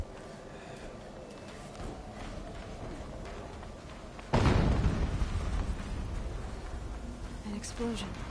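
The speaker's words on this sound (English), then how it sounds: "An explosion." An explosion in the Horizon video game erupts as a sudden heavy boom midway, its rumble lingering under continued game sounds and a person talking throughout.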